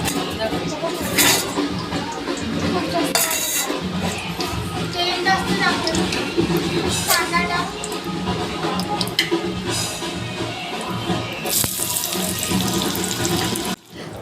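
Chopped onions sizzling in hot oil in a kadhai, a steady loud frying hiss with occasional clinks of a utensil, while someone talks over it.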